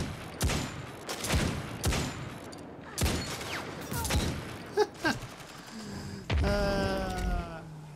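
Several loud, sharp bursts of hand cannon gunfire in a video game fire in an uneven series, each with a booming tail, followed by a harsher sustained mechanical blast.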